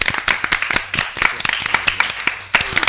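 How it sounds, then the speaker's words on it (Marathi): Hands clapping from a gathered village women's assembly, a crowd applauding in a steady scatter of sharp claps, fairly close, with a faint murmur of voices beneath. "ते बघ टाळ्यांचा आवाज येतोय बघ"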